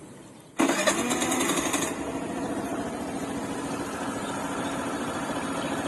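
A Suzuki Burgman 125 scooter cranks and fires up after a brief quiet moment. It gives a short loud start burst, then drops into a steady, even idle close by.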